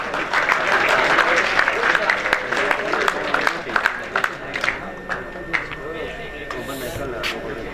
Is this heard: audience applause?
yes